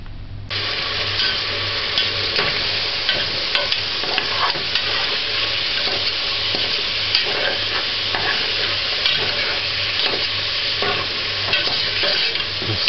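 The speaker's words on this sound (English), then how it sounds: "Just let it fry for a little while." Heart stew frying and being stirred in a pot on a stovetop, a steady close sizzle with scraping, clattering stirs throughout, no voices.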